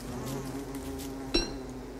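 Bees buzz in the video game Don't Starve, a steady insect drone under a single sharp clink partway through.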